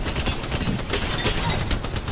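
Rapid bursts of automatic gunfire from Apex Legends, dense and continuous, with overlapping shots filling the whole moment.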